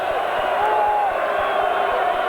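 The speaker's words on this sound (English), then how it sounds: "There's the crowd." Steady roar of a crowd of about 36,000 at a 1991 NFL football game between Houston and New England, a continuous, broad wash of cheering voices heard from a distance without a break.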